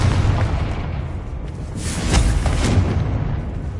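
Confringo explosive spell cast in the Hogwarts Legacy video game, a loud sustained booming blast with rumbling low end and a crackling burst swelling midway through.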